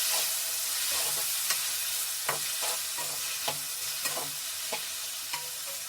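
Tomato, tamarind and about ten garlic cloves fry in a pan for chutney, a continuous loud sizzle broken by regular spatula scrapes and taps as the mixture is stirred.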